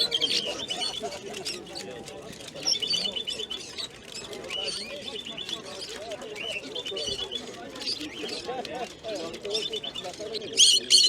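A parrot at an animal market chirps and warbles with a canary-like song, a close, bright run of twittering notes over background market chatter and voices.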